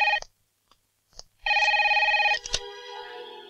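A telephone rings in short electronic bursts, one brief ring then a longer trilling ring that cuts off into a handset click and room hum, loud and near with no talking.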